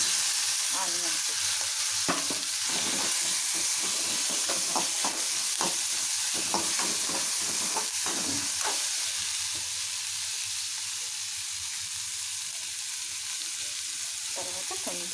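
Onions with cumin and mustard seeds frying in a small amount of oil, a steady close sizzle with scattered crackles and stirring clicks throughout, no talking.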